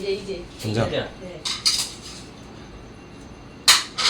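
Plates and dishes are handled at home during a birthday gathering, producing a few scattered clinks and clatters close by, with voices talking intermittently.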